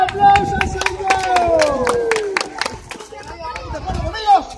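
A church congregation bursts into applause and cheering after a countdown during a service, dense clapping heard up close over voices and a high held tone, fading then swelling again near the end.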